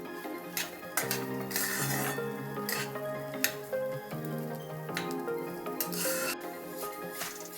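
Moong dal is stirred as it dry-roasts in a pan, making a soft, steady scraping rustle with light metallic clinks. A faint background tone runs underneath and no one speaks.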